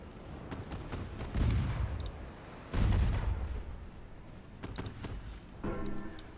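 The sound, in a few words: warship guns firing at cruiser in naval video game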